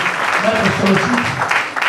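Applause from an audience at a French political speech by a politician, a steady broadband wash of clapping running under a voice speaking over it.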